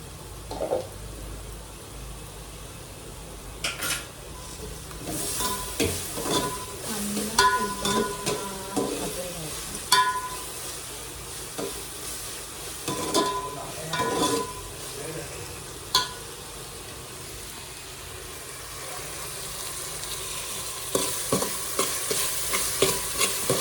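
Onion with ginger garlic paste frying and being stirred for pav bhaji, a soft low sizzle broken by scattered scraping spoon strokes and clatters, close and fairly quiet.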